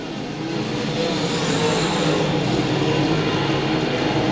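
Race cars racing at Lakeside Speedway: a steady, loud roar of engines heard from trackside, swelling slightly as the pack passes, with no talk.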